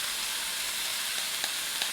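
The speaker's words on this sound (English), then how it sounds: "We're going to cook that down until the fat starts rendering off and the bacon gets somewhat crispy" Bacon sizzles in a hot skillet, a constant bright frying hiss with a few sharper crackles and pops near the end, close by and with no talk.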